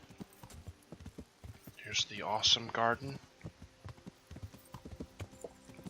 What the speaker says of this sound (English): Faster, horsey. Faster.